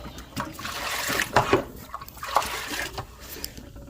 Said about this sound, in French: ajouter de l'eau, un peu de l'eau du robinet froide pour tiédir